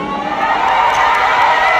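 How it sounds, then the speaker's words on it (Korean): A concert crowd in Jakarta cheers and screams without a break, a dense wash of many voices up close, loud and steady throughout. "여기가 이렇게 가까워서 더 환호 소리가 더 잘 들리는 것 같아요"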